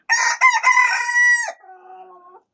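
A young rooster crows loudly and close by, one long drawn-out call that trails off into a softer, lower tail at the end.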